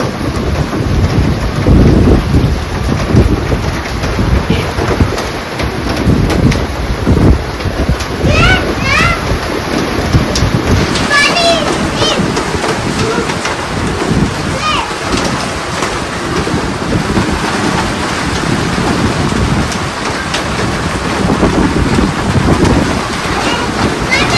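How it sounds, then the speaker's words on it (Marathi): Gusty wind roars and buffets the microphone while heavy rain pours down continuously, with a voice heard briefly through the storm. "वादळी पाऊस आहे ना वादळी पाऊस"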